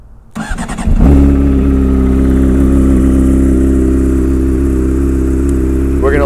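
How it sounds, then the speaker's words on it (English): A Honda CBR 600 sport motorcycle, left unused for weeks, cranks briefly and then catches, settling into a loud, steady, close idle rumble that runs without a break and with no talking. "let's start up the 600 because she's the quieter one"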